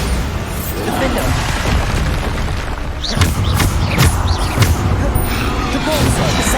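Bombarda spell blasts in Hogwarts Legacy combat, dull booms and bursts under a dense, loud game mix with swooshing spell effects and a constant voice reciting spell names over it.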